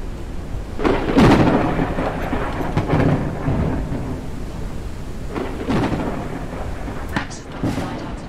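Rolling thunder rumbles over steady rain during a storm in the video game Forever Skies, with several loud crashes and booms rising out of the constant downpour, no talking.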